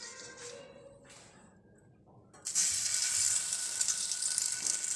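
Chicken kababs dipped in egg hit hot oil in a frying pan over medium heat, a quiet stretch giving way to a sudden loud, bright sizzle that holds steady to the end.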